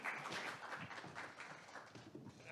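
Audience applause greeting a panel on digital inequality, a dense steady patter of many hands clapping at moderate level throughout, without a break.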